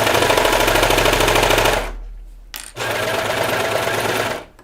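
A serger stitches a cardigan seam at steady high speed, a dense rapid whirring rattle that stops for under a second, then starts again and runs until the end.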